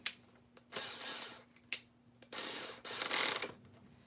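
A screwdriver drives screws back into a Big Mouth Billy Bass animatronic fish during a restoration, heard as several close, separate bursts of ratcheting and grinding with short quiet gaps between them.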